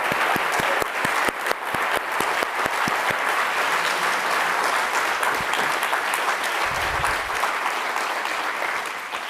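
An audience at an evening poetry and dialogue event gives a steady, dense round of applause, many hands clapping continuously and fairly loud throughout, tapering slightly at the end.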